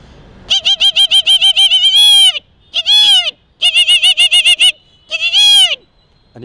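A man imitates the red-wattled lapwing's call with loud, shrill, warbling bursts of rapid repeated notes in four clusters, close and alone.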